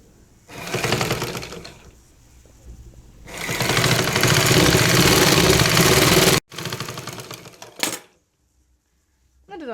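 A sewing machine stitches churidar top fabric in loud, close bursts of rapid mechanical whirring, with short pauses between runs and a final brief burst before stopping.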